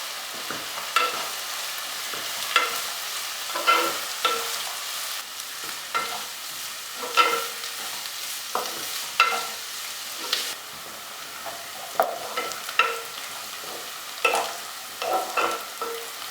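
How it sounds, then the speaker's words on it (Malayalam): Sliced onion, ginger, garlic and grated coconut sauté in a pan for Kerala varutharacha chicken curry, a steady sizzle broken by repeated scraping stirs every second or two, close and without talk. "ഇതിലേക്ക് തേങ്ങ ചിരകിയതും കൂടെ ഇട്ട് വഴറ്റിയെടുക്കാം."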